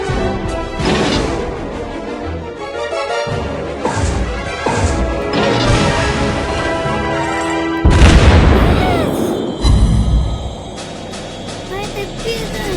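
Heavy naval gunfire from warships in the game World of Warships: repeated loud booming salvos and crashing impacts, the biggest blasts around the middle and later part, with game voice lines and talk over the battle.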